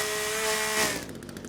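A chainsaw from the survival video game The Forest runs with a loud, steady buzzing drone for about a second, then cuts off abruptly into quieter scattered noise.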